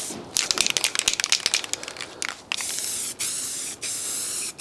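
A spray gun lays a first coat of paint on a car panel, loud hissing bursts with crinkly sputtering at first, then steadier long blasts broken by brief pauses, close up.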